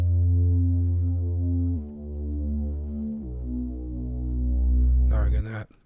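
Deep synth bass patch built in FL Studio for a track, with saturation raised and the chorus order set to about 4, sustaining loud, thick held notes that step through a few pitches before a brief noisy burst and a cutoff.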